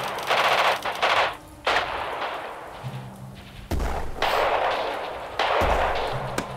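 Bursts of rapid machine-gun fire and heavy gunshots from the World War II strategy game Radio General, loud and sustained in several long volleys separated by brief pauses, with low thuds between them.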